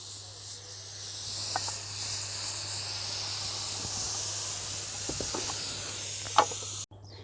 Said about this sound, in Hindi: इसकी भाप सारी निकल चुकी है।